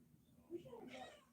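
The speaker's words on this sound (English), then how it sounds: "My cat likes to yell at a ball." A house cat meows and yowls at a ball, one drawn-out rising and falling cry at close range, fairly faint in a quiet room.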